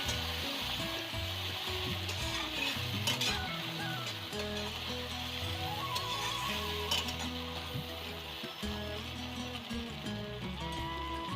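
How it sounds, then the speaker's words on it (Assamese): Tomato paste and spices fry in hot oil for an Assamese home-style mutton curry, a steady close sizzle with bubbling and occasional stirring scrapes throughout. "এইখিনি ভালদৰে অকণমান ভাজিব লাগিব যেতিয়ালৈকে তেলটো ফুটি নোলায়"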